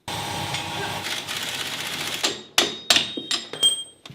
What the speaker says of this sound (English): I think I will start stripping the front axle off of this today